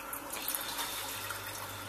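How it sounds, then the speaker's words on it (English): Water pouring into a glass bowl in a kitchen, a steady splashing, trickling fill heard up close for a couple of seconds with no talking. "So I'm just going to put some water in there."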